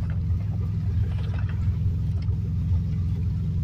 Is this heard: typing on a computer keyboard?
no